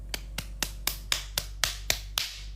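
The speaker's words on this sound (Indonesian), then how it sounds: "Tepuk tangan." Eight slow, evenly spaced hand claps from a single person, fairly close and dry, each a sharp broadband snap with a short tail, over a low steady hum and no talking.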